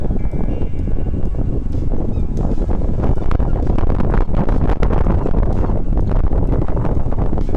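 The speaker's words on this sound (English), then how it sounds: "as you can hear, the wind's getting up, or the breeze. It's getting windy." Strong wind buffets the microphone in a constant loud roar, with gusty rumbling and faint creaks, no voices, on a boat approaching its berth at Whitby.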